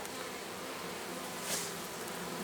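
Constant buzzing of bees flying about in the rain, a dense steady hum mixed with a hissing background of rainfall.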